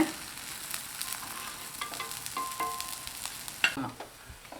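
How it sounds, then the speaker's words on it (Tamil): A tapioca adai dosa frying in oil on a pan after being flipped, a soft steady sizzle with light crackling and a brief scrape or tap of a spatula near the end. "திருப்பி போட்டு சுற்றிலும் கொஞ்சமாக எண்ணெய் விட்டுக்கலாங்க"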